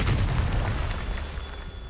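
A Confringo spell explosion in the Hogwarts Legacy video game: a deep, rumbling boom that fades out over a couple of seconds, with no voices.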